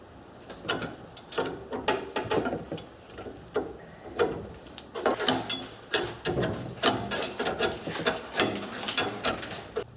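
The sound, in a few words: turning spring compressor to compress a Subaru strut spring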